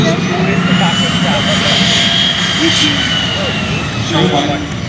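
A-10 Thunderbolt II ground-attack jet flying a demonstration at the 2021 Greater Binghamton Airshow, a loud steady jet roar with a high whine, a voice talking faintly beneath it.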